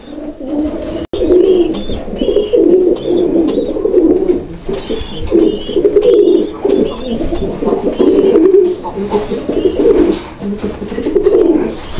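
A male Gangchil Kaldom fancy pigeon coos in a loud, close, continuous series of throaty rolling phrases, with faint higher chirps from other birds in the background.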